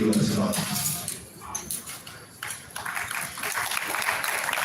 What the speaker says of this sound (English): Give the IDB a clap.